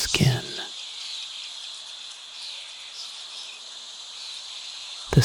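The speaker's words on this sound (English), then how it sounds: "The sound of crickets provides a gentle background hum, their evening song a lullaby to the lake's peacefulness." Crickets chirp at night beside a lake, a steady high-pitched trilling hum that runs unbroken and fairly soft; brief louder knocks sit at the very start and end.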